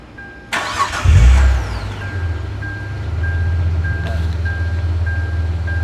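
A 2008 Hyundai Tiburon with its stock air box cranks briefly, then its engine catches and settles into a steady, close idle, with the low rumble holding throughout and no one speaking.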